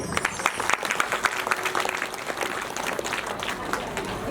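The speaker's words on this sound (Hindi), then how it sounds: "चलिए एक बार जोरदार ताली बजाइए।" Audience at a Hindu religious discourse on the Ramcharitmanas in Raipur breaks into loud, sustained clapping that fills the whole stretch, with a voice briefly heard through it.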